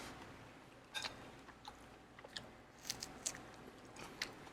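A Chinese-restaurant chef bites into a raw garlic clove and chews it, giving several sharp, crisp crunches spread irregularly through a quiet, close-up recording.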